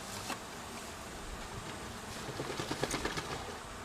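Bees buzzing around an open beehive during an end-of-summer hive inspection, a steady diffuse hum with a few brief louder passes near the end.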